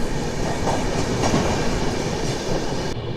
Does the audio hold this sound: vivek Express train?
yes